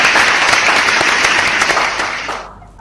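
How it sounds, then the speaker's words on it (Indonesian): Loud, dense clapping from an audience at a talk about the G20 summit in Bali, holding steady for a couple of seconds before tapering off and fading to quiet. "Tepuk tangan dulu."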